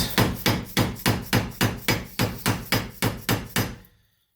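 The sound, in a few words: screwdriver prying off a car O2 sensor part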